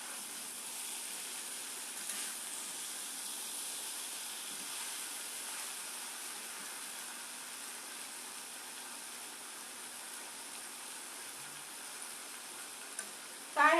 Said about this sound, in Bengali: যখন কাঁঠালগুলি ভাজা হয়ে গেছে